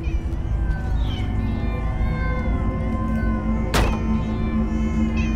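Several cats meowing in the Minecraft Story Mode video game, high wavering calls over a dense game soundtrack with a sharp thump near the end.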